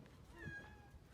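A single soft cat meow, fairly quiet and close, rising then falling in pitch over a faint background hum.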